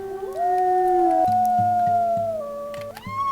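A puppy howls in a dog-breeding video game, a loud, sustained, wavering cry that slides downward, then jumps up again at the end, over low rhythmic background music.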